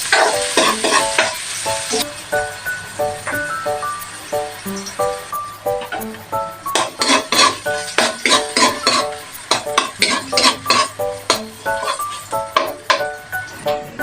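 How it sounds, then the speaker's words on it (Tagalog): One onion sautés in two spoonfuls of hot oil in a pan, a steady sizzle under repeated rhythmic metallic stirring and scraping, with occasional talk. "Magpainit ng 2 kutsarang mantika. Ilagay na natin isang sibuyas."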